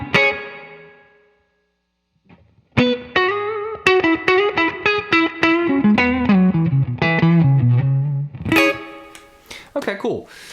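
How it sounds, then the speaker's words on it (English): Electric guitar through a Walrus ACS1 amp and cab pedal, with a reverb pedal in front: a ringing chord decays into a short silence, then a quick run of picked notes and chords swells into a final burst of strums, all up close. "adding a little bit of a reverb pedal in there in front of it makes it sound and feel more like an amp to me"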